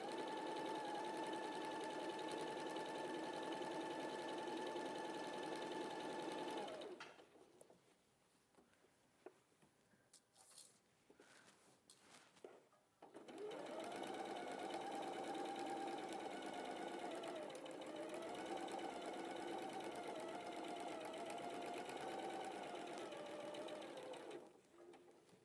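A sewing machine stitching ties runs in a steady, fast mechanical whir, pauses for several seconds of quiet handling noises, then starts again with a slightly wavering drone before stopping near the end.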